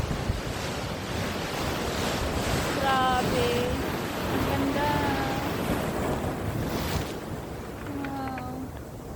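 Ocean surf rolls onto the beach at Port Noarlunga South, South Australia, a loud, continuous wash of breaking waves mixed with wind buffeting the microphone, while a voice exclaims over it.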